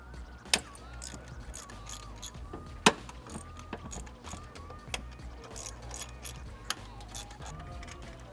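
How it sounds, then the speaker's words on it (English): A ratchet fitted with a 5mm Allen bit loosens the throttle body bolts on a Nissan 350Z, giving faint, quick clicking over low mechanical background noise with a few sharper snaps. "take a 5mm Allen and do the 4 throttle body bolts"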